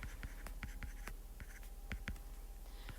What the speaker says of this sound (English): I think I'm going to have to write my stuff down here.